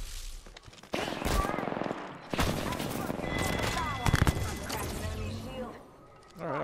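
An L-STAR energy gun in a video game fires in rapid bursts with heavy impacts and explosions, loud and close, while a player talks over the action.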